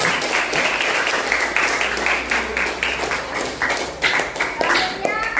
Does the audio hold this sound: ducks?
no